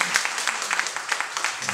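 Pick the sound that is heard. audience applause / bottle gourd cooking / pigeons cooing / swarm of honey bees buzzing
audience applause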